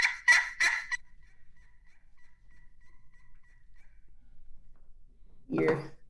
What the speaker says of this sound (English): would be your yelp, and they're pretty easy to do on all of these calls.